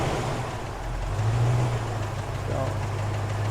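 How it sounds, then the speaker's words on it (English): A 1970 Chevrolet El Camino Custom with a 350 V8 runs steadily nearby, a low continuous engine rumble that swells slightly as the revs rise briefly and then settles back, with no talk over it. "I'm gonna run it a little bit at different RPM so we can hear it."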